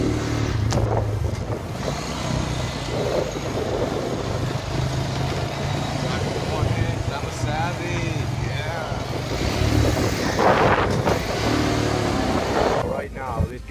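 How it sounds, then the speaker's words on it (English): An ATV engine runs steadily while spinning donuts, a continuous mid-pitched drone with slight revving surges, close by with people talking over it. "Doing donuts over here with one hand."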